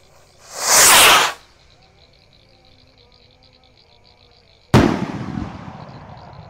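A large firework rocket from a Ramadan-night fireworks session launches with a loud, roaring whoosh, then a few seconds of quiet before a sharp, booming explosion that crackles and fades.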